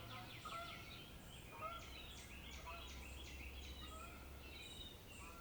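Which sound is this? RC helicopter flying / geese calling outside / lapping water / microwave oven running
geese calling outside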